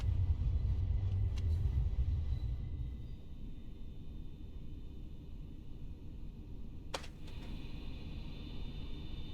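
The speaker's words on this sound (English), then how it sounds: "That's the train." A Bernina line Allegra train with extra cars attached at the back rumbles past near Lago Bianco, a low steady rolling roar loudest at first, then easing to a continuing drone, with a brief sharp clack partway through.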